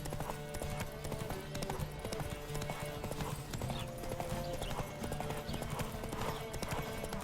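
Horse hooves clip-clopping at a gallop in The Witcher 3: Wild Hunt, a rapid rhythmic pounding with a steady game soundtrack hum underneath and an occasional whinny.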